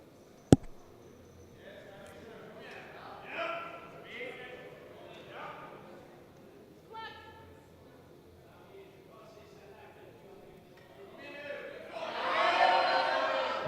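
Swedish supporters at a classic powerlifting meet applaud warmly, with faint crowd murmur building to a loud burst of clapping and cheering near the end, while commentators talk throughout.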